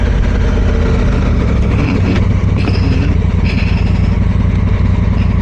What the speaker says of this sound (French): Un scoot à 4 roues